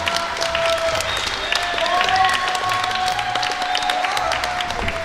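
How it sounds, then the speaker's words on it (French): Steady applause from a live podcast audience for four contestants, a continuous wash of clapping with tonal background sounds running beneath it. "On peut applaudir nos 4 candidats."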